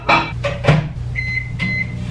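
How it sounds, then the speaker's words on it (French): A microwave oven heating two eggs in a small covered bowl: a few clunks and knocks from the door and buttons, then sustained electronic beep tones, close and clear with no talking. "30 secondes au micro-ondes."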